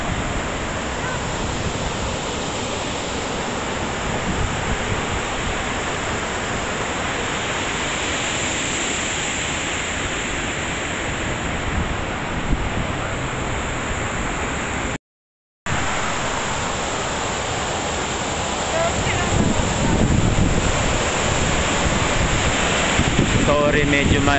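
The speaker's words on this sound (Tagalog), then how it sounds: "medyo maingay, malakas yung lagaslas ng tubig ng waterfall" Loud, steady rushing of a waterfall roars close by in a San Francisco garden, broadband and constant, with wind buffeting the microphone; a brief dropout interrupts it.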